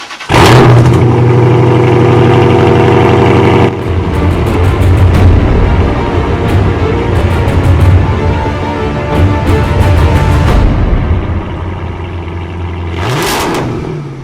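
A 2013 Chrysler 300 with a V8 Hemi engine revs loudly and up close, its deep rumble swelling and falling through repeated throttle blips before settling toward a steadier idle, with no talking.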